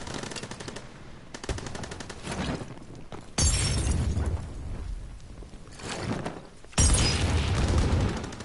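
Explosions and heavy gunfire in the video game Call of Duty WWII, with a crackle of rapid shots followed by two loud booming blasts a few seconds apart, each rumbling briefly before the firing resumes.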